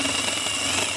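A reciprocating saw (Sawzall) cuts pipe while setting handholes to grade, a loud, continuous, close buzzing rasp with no pauses.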